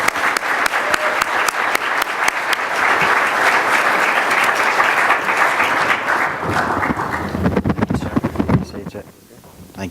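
A conference audience applauds to welcome keynote speaker Jack Sinclair on stage, with dense, steady clapping that holds strong for several seconds before thinning out and tapering off.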